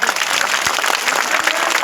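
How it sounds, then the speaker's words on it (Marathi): A crowd gives a loud, dense round of applause for sisters who had fasted, with continuous clapping throughout. "त्यांच्यासाठी एकदा कडकडून टाळ्या वाजवा"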